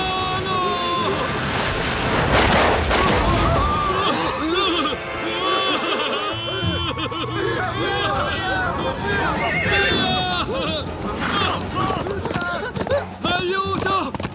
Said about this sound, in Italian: Fermate questo cavallo selvaggio!